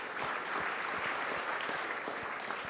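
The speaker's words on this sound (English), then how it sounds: "let's give him a round of applause" Audience at the first annual Brooklyn Jewish Hall of Fame induction ceremony claps in a steady, dense round of applause, close and fairly loud, with no one speaking over it.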